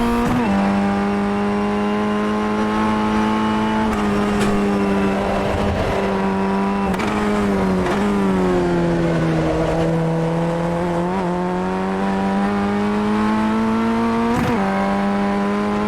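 A Formula Ford race car in iRacing, a Ray FF 160, sounds loud and close as its engine revs rise and fall with gear changes and lifts, with brief tire squeal and no talking.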